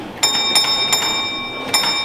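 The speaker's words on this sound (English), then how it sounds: "he then responds the line is clear by repeating that bell signal back to signalman A" A railway signal box block bell at the National Railway Museum in York rings out four bright, ringing strikes close by, three in quick succession and then a single strike after a short pause, each leaving a metallic ring.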